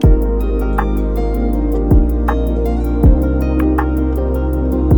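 A full instrumental beat with booming kicks, ticking hi-hats and snare layered under sustained melodic synth chords, steady and loud, with no vocals.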